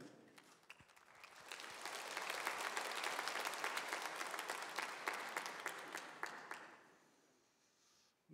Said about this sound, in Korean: 우리 다시 한번 박수 한번 뜨겁게 한번 더 하시죠